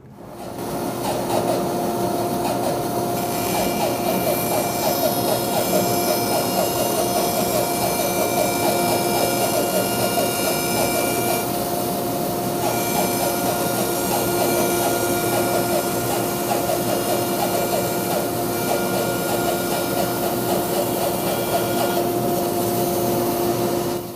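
Band saw resawing a board of lumber, a loud, steady whining drone with a constant high motor tone that holds unbroken for over twenty seconds.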